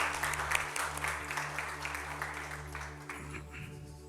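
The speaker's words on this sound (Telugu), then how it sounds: "అదే పాస్టర్ గారిని చప్పట్లతో ఆహ్వానిద్దాం" A church congregation at a Telugu communion service clapping to welcome the pastor, a dense patter of many hands that stays fairly even and slowly tapers over a few seconds, with a steady low hum from the sound system beneath.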